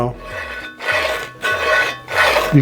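A hard plastic cleaning tool scrapes hard debris out of small holes in three rasping bursts, close and fairly loud, with a low voice murmuring faintly underneath.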